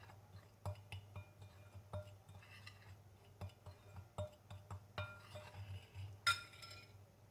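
Garlic, salt and paprika being mixed in a dish for drumsticks in red sauce, with soft intermittent clinks and taps of a utensil against the bowl and one sharper clink near the end.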